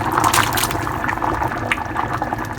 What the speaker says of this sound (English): Okay, I'm bringing it to a boil, and I'm adding in the pickles.